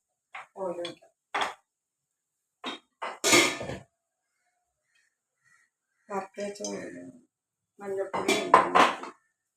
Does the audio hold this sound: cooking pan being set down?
yes